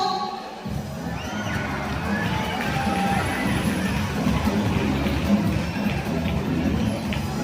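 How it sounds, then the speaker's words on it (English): At a dolphin show in a Dubai dolphinarium, a crowd cheers and shouts with children's voices prominent, a continuous loud hubbub of whoops and calls with some clapping mixed in throughout. "There is your clapping."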